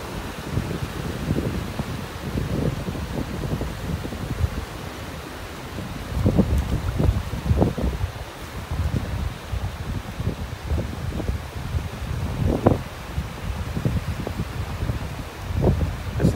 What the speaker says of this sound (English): So relaxing, just listening to the waves.